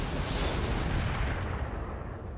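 Mech weapons firing in RogueTech, a BattleTech video game: a loud, booming volley of heavy gunfire that rumbles on and slowly fades over a couple of seconds.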